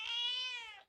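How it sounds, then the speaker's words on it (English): Cat Siri gives a single clear, drawn-out meow from inside a fridge, close and fairly loud, fading at the end. "my cat Siri managed to get herself inside the fridge"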